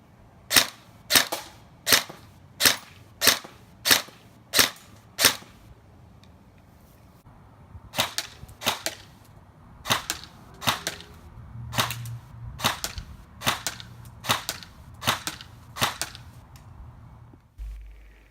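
A Bolt MK18 electric recoil airsoft rifle fires a steady run of sharp, loud single shots with crisp mechanical recoil clacks, first evenly spaced, then after a pause a longer series with a slightly quicker rhythm.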